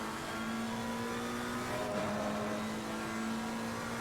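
Race car engine in the Assetto Corsa Competizione racing game on a British circuit, a steady sustained drone with a brief pitch dip midway, holding at a constant moderate level with no voices.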